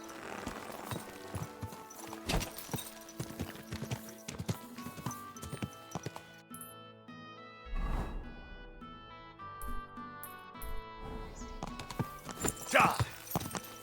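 Horse hooves clip-clop steadily on a hard surface in Kingdom Come: Deliverance II, with a horse neighing at moments over game music and ambient sounds, fairly quiet overall.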